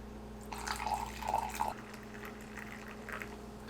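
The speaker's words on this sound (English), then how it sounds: "Let's pour into this cup and give it a taste." Freshly brewed pour-over coffee trickles from a Chemex into a cup, a close, soft liquid stream lasting about a second and a half, then a faint drip afterward over low room hum.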